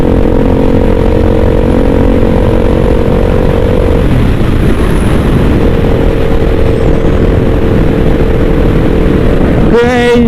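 Yamaha Exciter motorcycle in fourth gear at high speed, a loud steady engine drone mixed with heavy wind rush that swells briefly near the end.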